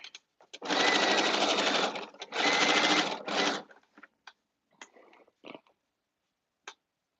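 A sewing machine runs a long stitch on a caftan in three close, loud bursts of steady whirring, the last one shorter, followed by scattered soft clicks and taps before silence.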